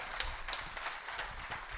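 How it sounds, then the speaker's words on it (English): Audience applause at an international chemistry and biology conference session, steady and fairly faint clapping from a crowd, continuous for a short stretch. "Let's give him another round of applause."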